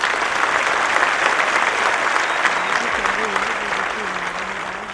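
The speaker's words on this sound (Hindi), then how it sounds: "मेरे ख्याल से जोरदार तालियां।" Loud, sustained applause from an audience at a leadership talk, a dense roar of clapping with a faint voice or tone emerging beneath it toward the end.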